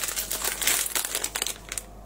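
A plastic bag of pasta is crinkled up close in quick, irregular bursts of rustling, fairly quiet and with no voices over it.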